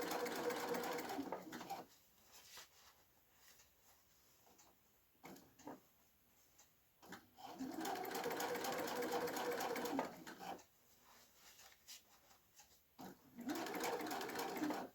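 A sewing machine stitches a shoulder seam, running backward and then forward. Bursts of steady mechanical whirring start and stop several times, close and clear, with quiet pauses between the runs.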